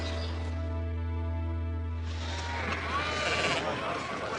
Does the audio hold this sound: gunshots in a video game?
no